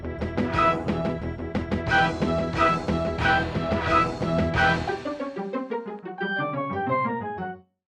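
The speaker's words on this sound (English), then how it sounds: "A standard MIDI player sounds like this." MIDI file rendered by a standard MIDI player: a dense, synthetic ensemble with drums and layered instruments playing steadily, then thinning to a few clean melodic notes before stopping.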